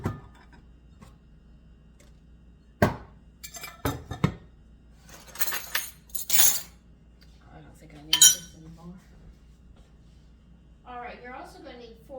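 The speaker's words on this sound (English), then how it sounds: "What I'm actually doing is breaking the flour up. That's why I use the whisk." A whisk breaks up flour in a mixing bowl for a raspberry cream pie crust, giving sporadic light metallic clinks and taps against the bowl over a quiet room, with a short voice near the end.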